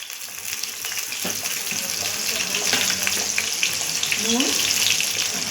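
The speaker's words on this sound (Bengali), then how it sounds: "এবার আলুগুলো লাল লাল করে ভেজে নেব" Potato pieces frying in oil with a steady, bright hiss that continues throughout without a break, close up and fairly loud, with no voices heard over it.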